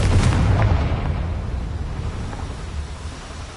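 A Confringo explosive spell cast in Hogwarts Legacy goes off as a loud, deep boom near the start, then rumbles on and slowly fades over a few seconds.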